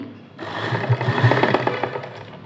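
A sewing machine stitches fabric for a hanging decorative design, starting with a quick whir and settling into a steady, close mechanical running hum with light rattling, and no voices.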